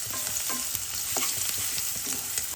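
Chopped garlic and green chili fry in hot oil in a pan for crispy chicken, giving a steady close sizzle with intermittent scraping and stirring clicks, with no voices.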